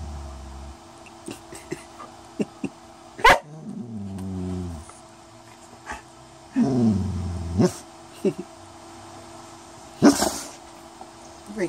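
Two pet dogs begging for food let out short barks and whining, growly vocalizations in scattered bursts at close range, while a person talks to them in between.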